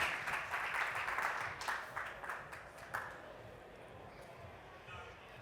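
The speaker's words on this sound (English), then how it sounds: "can everyone give a big round of applause to Manohar as he comes up to the stage" An audience at a business talk on generative AI in marketing applauds as the next speaker walks up to the stage, a crowd of claps that thins and fades toward the end, with faint voices underneath.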